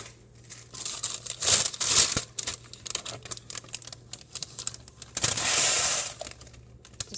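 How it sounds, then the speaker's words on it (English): Homemade instant oatmeal being poured into a small plastic bag, with close crinkling and rustling of plastic in bursts and two louder rustles. "And you just put it in your little bag."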